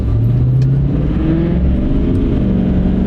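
A heavy vehicle with an Allison automatic transmission pulls away hard from a stop, its engine droning loud and steady with a rising whine as it accelerates, close by and continuous with no talking.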